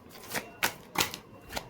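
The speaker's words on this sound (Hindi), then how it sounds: "चलिए कुछ और कार्ड्स निकालकर हम लोग देखते हैं" Tarot cards are shuffled and drawn by hand, making several quick, soft riffling bursts spaced about a third of a second apart, close and fairly quiet, with no voice.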